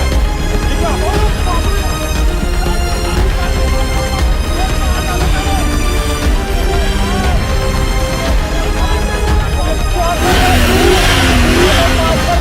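A car engine revs and strains in uneven surges as the clutch is worked, loud and close, with agitated voices talking over it and a harsher burst near the end.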